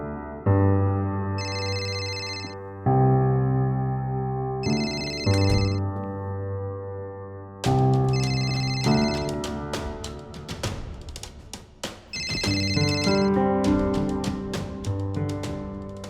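A phone ringtone plays in repeated melodic bursts with brief gaps, ringing on unanswered for about sixteen seconds, fairly close and clear, with no talk over it.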